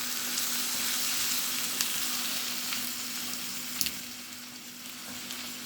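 Potatoes, meat and onions stirred in a pot on the stove: a steady soft sizzle with a few faint clinks and scrapes of stirring, fairly quiet and close, no talking.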